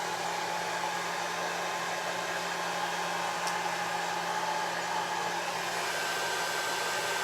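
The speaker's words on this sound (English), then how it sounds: "just gonna hit it with a hair dryer really quick." A hair dryer on its low heat setting blows in a steady, continuous whoosh, close and unbroken from start to finish with no voices.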